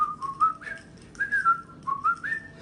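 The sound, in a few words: person whistling while imitating workers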